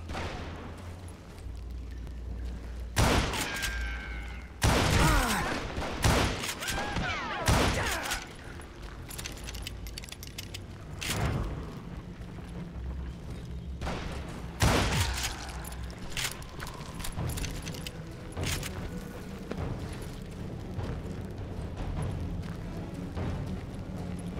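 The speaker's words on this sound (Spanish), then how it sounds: "Están disparando." Repeated gunshots crack out in scattered bursts of several close, loud reports, some echoing, with quieter stretches between volleys over a steady background.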